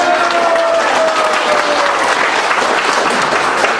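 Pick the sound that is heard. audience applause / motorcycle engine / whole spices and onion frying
audience applause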